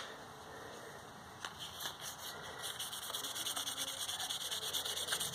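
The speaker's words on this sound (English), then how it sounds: "So that was with the 1000 grit sandpaper. I'm going to take 2000 grit." Close, steady rubbing of wet 2000 grit sandpaper on the body of a Chevrolet Equinox during a home rust repair, a rhythmic swishing scrape that grows slightly stronger, with no talking.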